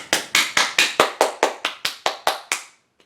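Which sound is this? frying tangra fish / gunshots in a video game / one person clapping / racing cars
one person clapping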